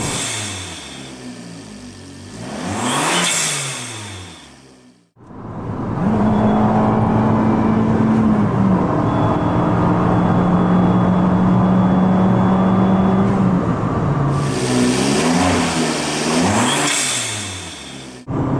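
Fiat Abarth engine fitted with a cold air intake, running about 20 pounds of boost, revs hard up toward redline in loud, rising sweeps, holds a steady high drone in the middle, then climbs again near the end.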